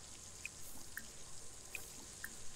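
Sink water in the video game Sims 4 as a character washes hands, with faint repeated drips and trickles in a quiet setting, no voices.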